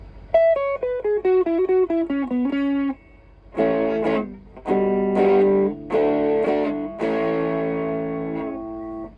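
An electric guitar through a Soul Food overdrive pedal, with a Boss Blues Driver bypassed, plays a descending single-note line, then sustained crunchy chords separated by short pauses.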